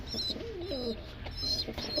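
Newly bought pigeons coo in soft, repeated rolling calls, close and continuous, with faint chirps over a quiet background.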